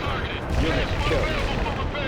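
Dense battlefield rumble with scattered gunfire and artillery fire in the war strategy game World in Conflict, a steady loud wash of combat noise with voices mixed into the din.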